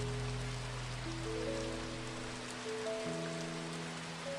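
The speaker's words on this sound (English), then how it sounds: "the rhythm that only the rain can create" Soft, even rain patters in a constant hiss beneath sustained, gentle musical tones, quiet and calm throughout.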